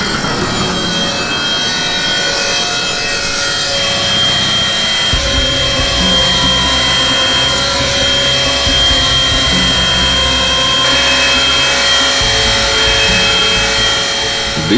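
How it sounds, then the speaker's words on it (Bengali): Stone cutting machinery runs inside a marble factory, a loud continuous mechanical whine and grinding roar that thickens with a heavier low churning after the first few seconds and holds steady throughout. "এই পুরো এরিয়াতে এই একটাই মার্বেলের ফ্যাক্টরি আছে"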